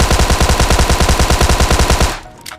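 Rapid automatic gunfire from a first-person shooter video game, a steady loud burst of evenly spaced shots lasting about two seconds, then cutting off into a brief quiet tail.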